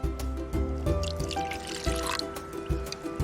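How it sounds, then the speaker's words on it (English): A half cup of water trickles and splashes into a pan, soft and close, amid small kitchen clatter and thumps. "We're going to put a 1/2 cup of water."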